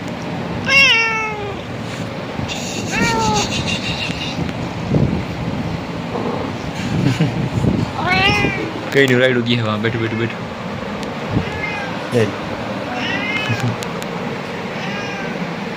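A cat meows several times at intervals over steady background noise, with people talking nearby between and over the calls.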